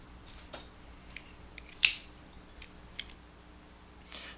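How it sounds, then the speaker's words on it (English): Scissors trim the tag ends of Amsteel rope during a splice, a single crisp snip amid a few faint clicks and light handling sounds, close and quiet. "we need to trim our tag ends"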